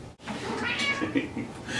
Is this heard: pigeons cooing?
no